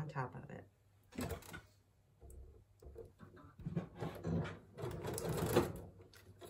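A sewing machine fitted with a quarter-inch foot stitches fabric pieces onto paper in short, quiet bursts of mechanical whirring, separated by pauses and small handling noises.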